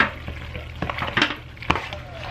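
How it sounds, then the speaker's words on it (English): Ingredients being mixed into cheese in a bowl, a few soft wet stirring and scraping strokes with light clinks, close by, brief talk over it. "I'm going to go ahead and mix that up"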